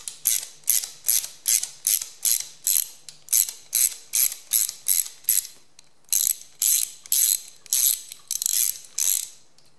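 Bolts on a Dodge Viper rocker arm alignment bar tightened with a ratchet wrench, giving close, bright clicking strokes in a regular series of about two dozen pulls with short breaks between them.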